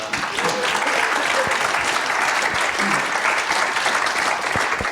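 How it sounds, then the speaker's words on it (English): A fans forum audience for Wycombe, the Chairboys, breaks into a steady round of applause, dense and sustained from start to finish, filling the room at an even level with no pauses. "I would ask for a round of applause"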